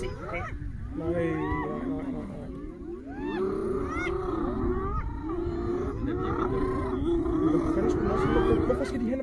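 A lion roars and growls in a wildlife scene, the calls rising and falling over several seconds, with a hyena nearby and people chattering in the background throughout.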